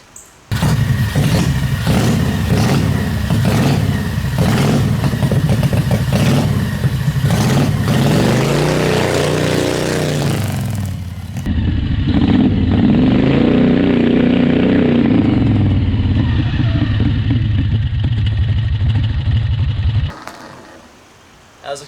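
A 670cc off-road go kart engine in high range revs hard and close, a loud droning roar that rises and holds, drops back, then surges again before cutting off near the end.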